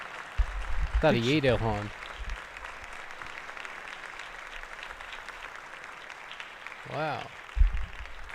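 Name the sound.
applause, Republicans clapping in House chamber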